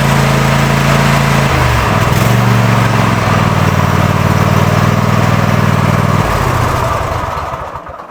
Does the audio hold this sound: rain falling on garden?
no